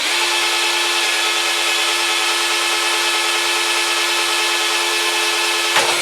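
A drill bores out the stripped bolt of a broken chair lock. It gives a steady, loud, continuous whine that grinds near the microphone for several seconds, ending in a faint knock near the end, and no voices.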